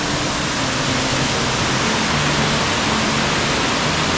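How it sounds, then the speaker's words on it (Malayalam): Vadakkemala waterfall in Kerala: a steady, dense roar of falling water that fills the whole stretch without a break. "ഇത് വടക്കേമല വെള്ളച്ചാട്ടം."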